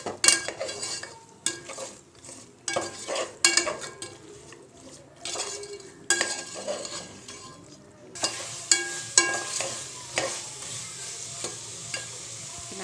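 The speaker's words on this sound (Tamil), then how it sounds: "அதையும் போட்டு பரட்டிட்டு தேவையான அளவுக்கு உப்பு எல்லாம் போட்டு நல்லா வதக்கணும்." Soaked green peas and salt being sautéed in a pan: repeated scraping stir strokes and utensil clinks over a steady low sizzle, close and fairly loud, with no talking.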